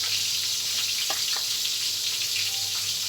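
Crispy beefsteak fries in hot oil with a constant, close sizzling hiss and a couple of brief soft bubbling spurts, with no voices.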